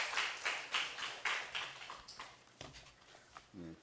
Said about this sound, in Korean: 자, 하나님께 영광의 박수 돌리겠습니다.